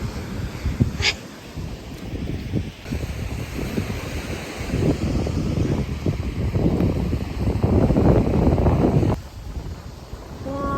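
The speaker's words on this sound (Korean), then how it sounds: "오늘 파도가 세서" Strong ocean waves break and surge at Songjiho Beach in Goseong, Gangwon, with gusty wind buffeting the microphone in a continuous, roaring wash that swells and eases, and no voices.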